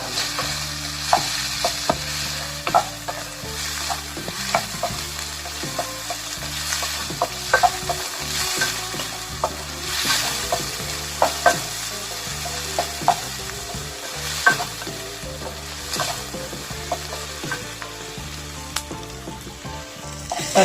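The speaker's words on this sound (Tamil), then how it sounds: "வெங்காயம் தக்காளி பழம் நல்லா வதக்கணும்" Onion and tomato, already salted, sautéed together in a pan while a spoon scrapes and stirs in a steady rhythm over a constant sizzle, close and moderately loud, with no talking.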